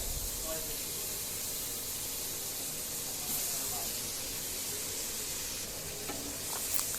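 Eggplant and potatoes fry in a spiced masala in a pan, giving a steady, close sizzle and hiss that runs evenly throughout with occasional stirring noises.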